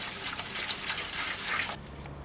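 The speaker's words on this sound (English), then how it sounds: "Just going to drop of warm water here." Warm water drips and trickles onto a book spine during a springback binding repair, a faint, close, wet splashing that lasts under two seconds before fading to room quiet.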